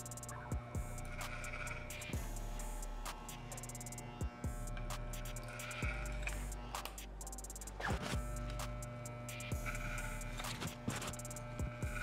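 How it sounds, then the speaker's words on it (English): Hair clippers run in a barber's clipper-over-comb fade on a men's haircut, giving a steady close electric hum with buzzing harmonics and soft, regular strokes pulsing through it every second or two. "We're gonna finish it off with clipper over comb."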